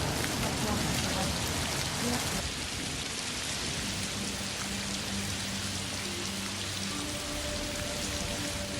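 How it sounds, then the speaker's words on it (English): Steady rain falling outdoors in California, a dense continuous hiss throughout, with faint low rumbling in the background. "It's starting to rain."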